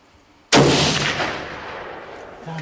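A single loud rifle shot fired at a whitetail deer during a hunt, a sharp close blast at the start followed by a long rolling echo that fades over about two seconds across open country.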